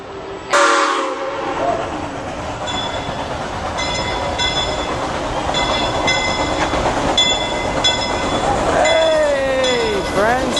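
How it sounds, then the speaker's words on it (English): A train rolls past at Silver Dollar City theme park, loud rumble with metallic clinks, ringing tonal horn or whistle blasts and rising squeals near the end, with people talking over it. "Hey, friends, the train!"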